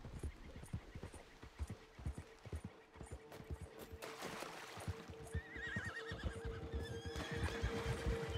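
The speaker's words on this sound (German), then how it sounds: "Ja gut, ist ein Pferd, ist ein mächtig großes Tier." A horse in the Red Dead Redemption 2 video game whinnies loudly, mixed with hoof clip-clop and ambient outdoor game sounds, with a second neigh toward the end.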